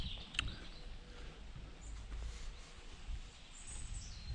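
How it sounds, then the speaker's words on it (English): Birds chirp outside a house in rural France, a few faint, brief calls scattered over a hushed, quiet countryside background. "Apart from the birds."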